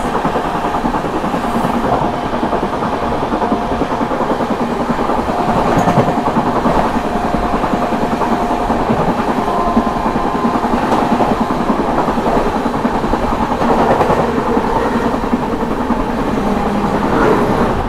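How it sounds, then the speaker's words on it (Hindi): The Prayagraj–New Delhi Humsafar Express running at speed while overtaking the Prayagraj Express, a loud continuous rumble and roar of wheels on track with rhythmic clatter throughout, no talk. "अपनी प्रयागराज हमसफर एक्सप्रेस ओवरटेक कर रही है प्रयागराज एक्सप्रेस को"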